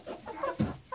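Chickens clucking close by in a backyard coop, a few short overlapping clucks and calls in a quick burst.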